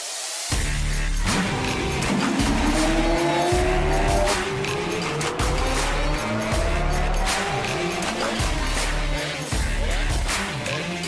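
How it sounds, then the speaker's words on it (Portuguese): A Lamborghini Aventador drives hard, its loud engine climbing through rising revs with gear changes and brief tire squeals, close and continuous throughout. "esse aqui é um Lamborghini Aventador"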